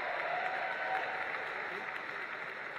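A rugby crowd at a Mexico versus Barbados match sends up a broad, continuous roar and scattered applause, with a commentator's voice running over the noise.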